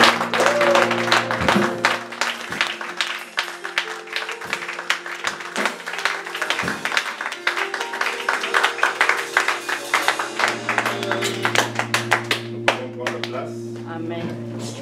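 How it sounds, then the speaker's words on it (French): A church congregation at Église Plein Évangile de Bezons claps loudly and steadily for about fifteen seconds, the dense, sharp hand claps layered over sustained music throughout. "Applaudissons très fort."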